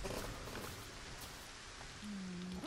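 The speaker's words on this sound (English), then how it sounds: "Ah, and it's raining." Rain falls in the Fortnite video game as a faint, steady hiss of drops, soft and continuous with no voices.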